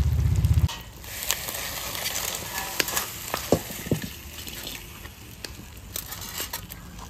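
Fish paturi wrapped in banana leaf sizzles and crackles in a hot pan, a steady fizzing hiss dotted with small pops and scraping clicks, close up.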